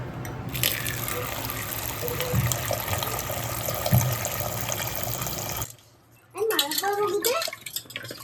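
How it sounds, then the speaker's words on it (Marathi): Amla (Indian gooseberries) washed by hand in a pot of water, with steady splashing and running water for several seconds, a brief pause, then more sloshing; a voice talks over it. "आवळे चांगले पाण्यात धुवून घेतोय"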